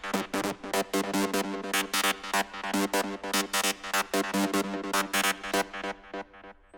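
Heavily distorted psytrance lead synth patch run through an amp effect in Ableton Live 10, playing fast, rapid-fire rhythmic stabs in a steady driving pattern, bright and buzzy, alone with no talking.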